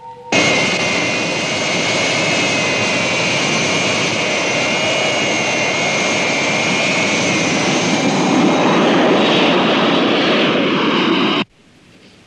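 Roaring jet engine of an airplane at full power during takeoff, loud and steady for about eleven seconds with a whining high tone, then cutting off abruptly.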